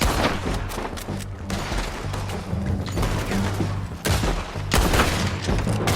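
Rapid gunfire from a Red Dead Redemption 2 shootout, with dense overlapping shots and booming blasts rolling on continuously at a loud, steady level throughout.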